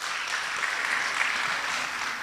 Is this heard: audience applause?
yes